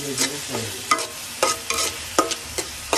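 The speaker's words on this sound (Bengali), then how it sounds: "মরিচ দেওয়া হয়ে গেছে, এখন ভাজি হচ্ছে।" Green chili fries in a pan among cooking greens, a soft background sizzle punctuated by regular, sharp scraping strokes of a spatula stirring about every half second; no talking.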